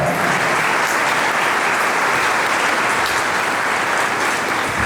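Loud, sustained applause from a church congregation at a Catholic feast-day service for Saints Peter and Paul, dense clapping filling the room steadily without pause.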